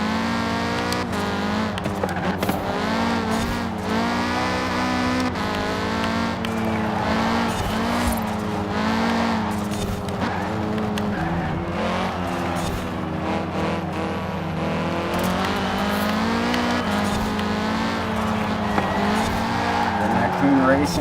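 A 2015 Audi TTS Coupe races in Forza Horizon 4. Its engine drones steadily throughout, with occasional tire squeal and skidding, and someone talks over it.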